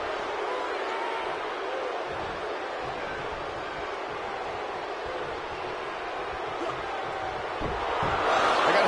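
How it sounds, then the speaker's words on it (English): Passionate wrestling arena crowd at the All In event roars in a continuous, dense wash of noise, swelling louder toward the end. "I don't remember the last time I heard a more passionate crowd than the one we have here tonight"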